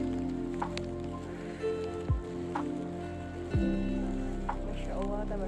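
Rain falls steadily on the open Suryakencana meadow of Mount Gede, a soft continuous patter with scattered louder drops and rustling close by.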